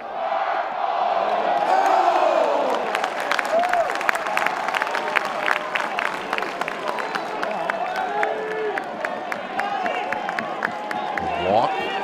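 A record crowd of about six thousand at a college baseball stadium in Greenville roars and cheers continuously, with claps and whistles rising over the din while a commentator talks over it.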